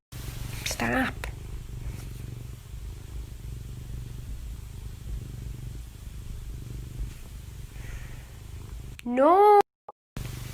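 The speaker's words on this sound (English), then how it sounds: "This person owns an overly aggressive romantic cat." A cat purring steadily and close, soft continuous rumble, briefly interrupted near the end by a rising whine and sharp cut.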